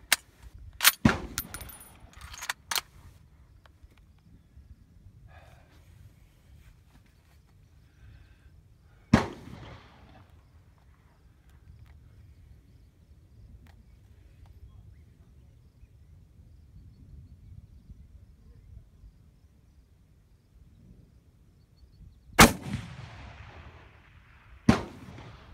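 A Mosin Nagant M44 rifle fires at long range, about 895 yards, outdoors: several sharp, loud cracks spread across the stretch with long quiet gaps between them, two shots close together early on and faint rustling in the pauses.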